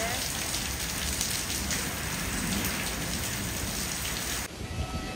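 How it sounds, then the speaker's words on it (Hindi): Heavy rain pours down in a dense, constant hiss of drops hitting surfaces, loud and unbroken, easing slightly near the end. "भगवान कितनी तेज बारिश हो रही है।"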